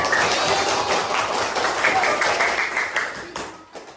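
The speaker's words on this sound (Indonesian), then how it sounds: "Tepuk tangan semuanya buat Jofar." Steady applause from a sixth-grade elementary school class in Indonesia, dense and continuous, with a few voices mixed in, fading slightly toward the end.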